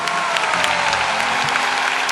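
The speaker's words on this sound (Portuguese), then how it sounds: "E aplauda para valer." A church audience at a Catholic evangelization center broadcast live applauds heartily after a blessing, a dense, steady wash of many hands clapping close and loud throughout, with cheering mixed in.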